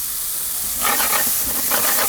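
Zucchini and squash dropped into a hot pan with cooked-down shallots, a sudden loud hissing sizzle bursting in partway through and staying strong to the end, close and without talk.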